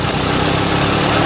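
A small engine runs steadily with an exhaust leak, a loud continuous rough drone close by with no talk.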